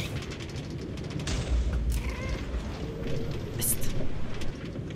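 A train rolls along in the Minecraft video game, giving a steady low rumble with mechanical clatter through the whole stretch, moderately loud, with occasional faint voices.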